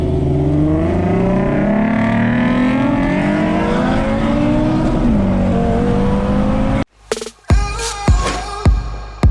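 An Audi RS3 engine warms up and revs, a loud, close, rising and falling drone over several seconds, then cuts abruptly to a few sharp clunks and knocks.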